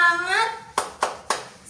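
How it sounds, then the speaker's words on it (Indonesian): Schoolchildren at an elementary school lesson do a rhythmic spirit clap: after a teacher's spoken prompt, three sharp, loud group claps land at an even pace. "coba tepuk semangat"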